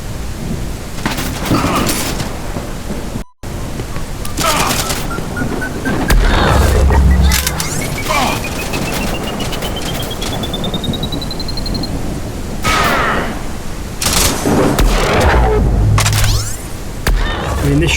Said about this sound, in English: this shotgun is absolutely ridiculous. It's kind of one-shotting people.